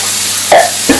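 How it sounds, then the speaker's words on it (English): Corn ribs frying in a pan, a steady close sizzle with two short louder spits or stirs near the end and no voices. "we'll leave them frying away"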